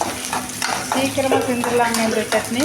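Sliced big onions and dried red chillies sizzle in a hot pan for a chutney, a steady close frying hiss with stirring scrapes while someone talks over it.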